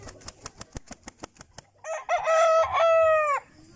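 A yellow legged hatch gamecock rooster crowing close by, a loud drawn-out crow preceded by a quick series of sharp clucks or wing flaps.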